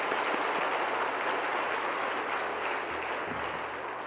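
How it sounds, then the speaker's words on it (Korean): Congregation applause during a Wednesday church worship service, a steady dense wash of clapping filling the room, fairly loud and continuous without talk. "다시 한번 격려의 박수 하겠습니다."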